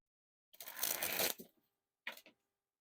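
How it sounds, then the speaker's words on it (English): Silver Peau-Doux playing cards sprung from hand to hand, giving a close, dense fluttering riffle lasting about a second, then a brief second flutter after a pause, with no talking. "And first we'll spring the cards."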